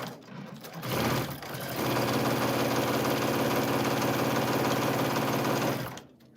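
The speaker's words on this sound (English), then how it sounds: "So we are sewing, I'm sewing a 1/4 inch all the way around." A sewing machine runs a quarter-inch seam around a quilted fabric placemat, a steady rapid mechanical stitching whir that starts after a short stutter, holds for several seconds and then stops, close and alone.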